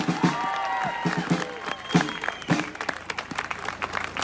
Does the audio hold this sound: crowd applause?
yes